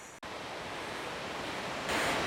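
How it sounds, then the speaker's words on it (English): A Lake District waterfall running full after heavy rain gives a steady, dense roar of rushing water that fills the whole stretch, swelling slightly louder toward the end. "the waterfalls are in pretty good flow with all the rain"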